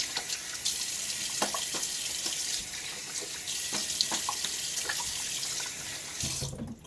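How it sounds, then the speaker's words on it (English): Tap water runs steadily into a sink to rinse a boar-bristle shaving brush, a close, even hiss with a few brief splashes and clinks, ending abruptly. "just a quick partial rinse there"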